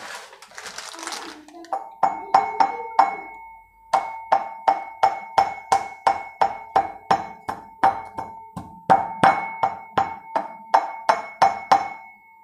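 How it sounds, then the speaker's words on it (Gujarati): Nutmeg is pounded into powder with a series of sharp, ringing metallic strikes at a steady rhythm, about two per second, loud and close, after a short rustle at the start. "જાયફળ કરવાનું છે ભૂકો"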